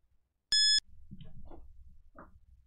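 A single sharp electronic beep, loud and brief, followed by soft low rumbling and faint murmurs.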